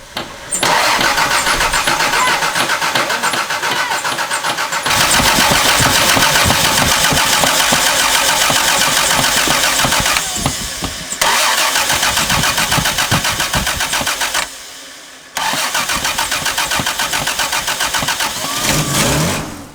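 A 1989 Toyota FJ62 Land Cruiser engine cranks repeatedly in loud, rhythmic bursts separated by brief pauses before catching, heard up close with no talking.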